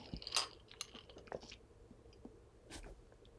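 Someone chews ice from a cold drink right at the mouth, with quiet, irregular crunches and squishy bites spread over a few seconds.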